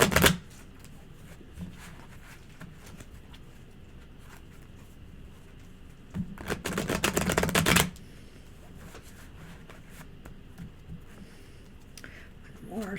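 A Cyril Marchetti Tarot Grand Lux tarot deck is shuffled close by. A brief riffle opens, then a quiet pause, then a louder burst of rapid card flutter that stops abruptly.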